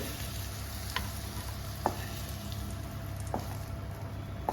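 Fenugreek leaves roasting dry in a kadai, a soft continuous crackle with a few scraping stirs of a spoon against the pan.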